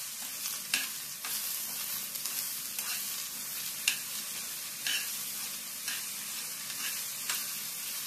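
Ridge gourd curry sizzles and fries in a pan while being stirred, with a steady hiss broken by repeated scraping strokes, close and alone.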